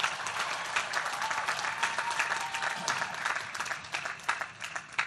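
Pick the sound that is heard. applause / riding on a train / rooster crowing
applause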